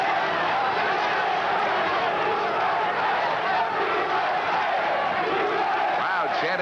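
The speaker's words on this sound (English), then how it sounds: "Crowd chanting USA again." Dense roar of an arena crowd at a super heavyweight amateur boxing semifinal, North American Amateur Boxing Championships, with massed voices chanting USA in a steady, continuous wash throughout.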